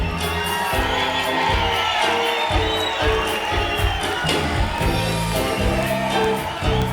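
Crowd at a concert applauding and cheering as a musician is introduced, loud continuous clapping mixed with whoops and shouts, filling the space from start to end.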